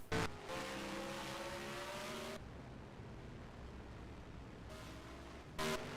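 Engines of Cup Series race cars at Michigan International Speedway whine steadily at high revs, rising and falling as cars pass, with loud bursts at the start and end and a duller stretch between. No voices are heard.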